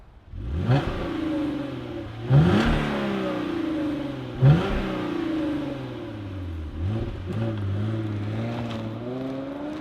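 A 2013 Hyundai Genesis Coupe 3.8 Track engine cranks to life and revs hard several times, loud and close, with rising and falling roars between bursts.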